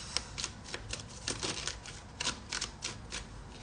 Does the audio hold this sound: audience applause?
no